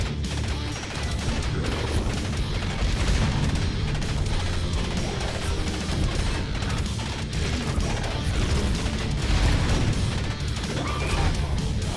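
Rapid, continuous gunfire and crashing impacts in the run-and-gun video game Iron Meat, dense and loud over driving heavy metal music.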